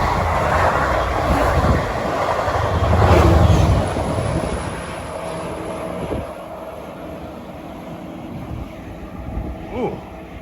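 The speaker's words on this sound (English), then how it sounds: "That was actually train 555 from Oyster Bay to Jamaica." Train 555 from Oyster Bay to Jamaica passes near the Hollis interlocking: a broad rumbling roar that peaks early, then slowly fades to a quieter hum, with a faint whine in the background.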